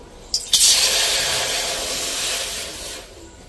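Water is poured into a bowl to measure it for rice flour dough for chusi pitha, a steady close rushing splash that lasts about two and a half seconds, with no talk.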